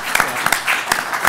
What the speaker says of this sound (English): can I have just a really brief round of applause for someone who just got married